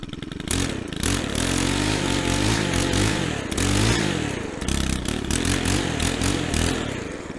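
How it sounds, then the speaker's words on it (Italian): A warmed-up brush cutter engine runs steadily close by, rising and falling through a couple of gentle revs with a buzzing, rattly two-stroke drone that fills the whole stretch. "motore riscaldato, diamo un paio di accelerate dolci"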